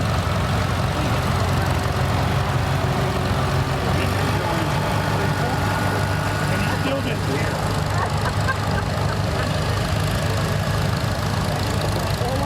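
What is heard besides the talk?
antique tractor engine idling at tractor show parade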